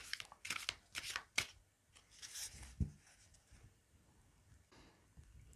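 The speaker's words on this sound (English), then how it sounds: "Let me shuffle the cards quickly." Quick bursts of tarot cards being shuffled, crisp riffling flutters and a soft tap, fairly close and quiet with no talking.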